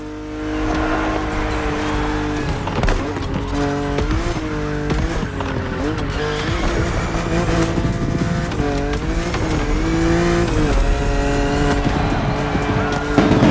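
A BMW in the racing video game The Crew Motorfest drives hard, its engine revving up and down through gear changes with repeated tire squeal, loud and close throughout.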